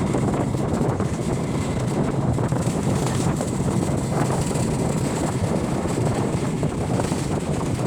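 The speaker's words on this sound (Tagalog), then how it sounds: "Lakas ng hangin pa rin." Strong wind after rain in Barangay Candayuman buffets the microphone with a constant, loud, rumbling roar that never lets up for the full eight seconds, with no clear voices.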